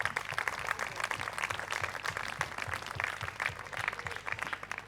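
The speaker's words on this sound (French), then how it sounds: "Je vous demande d'applaudir Mamadou et Yacine" An audience at a school eloquence contest staging a mock trial in Pré-Saint-Gervais claps warmly, a dense, even patter of many hands sustained throughout at moderate loudness.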